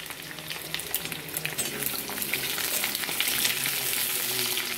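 Pieces of pointed gourd (potol) sizzle steadily in oil in a pan, giving a close, continuous crackling hiss with occasional stirring scrapes and no talking.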